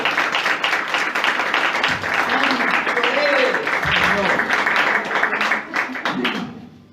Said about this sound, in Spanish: Va a aplaudir, aplauda, hermana, pero con amor.